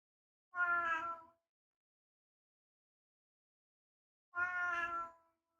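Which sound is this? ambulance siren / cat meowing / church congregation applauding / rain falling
cat meowing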